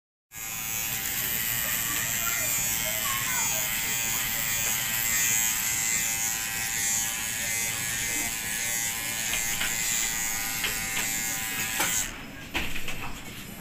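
An electric shaver or trimmer buzzes steadily and close up through a shave at a barber salon in Nasirabad, Sindh, with a brief clatter near the end and no talking.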